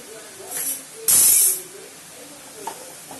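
Bottle gourd sautéing in a pan, a loud sudden hiss of steam and sizzle flaring for about half a second, then fading to a low simmer with faint scrapes.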